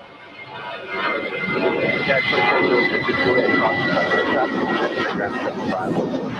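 A Volaris airliner on approach to land on runway 25 left at Los Angeles International Airport, a broad steady jet roar that swells and holds loud throughout.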